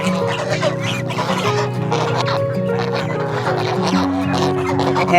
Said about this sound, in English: I'm referring to the chickens,